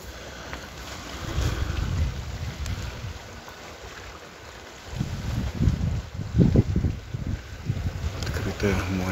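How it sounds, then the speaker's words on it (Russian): Gusty wind buffets the microphone beside the sea on the coast near Kemer, with low rumbling surges swelling louder toward the end; a voice talks intermittently over it. "Море, океан."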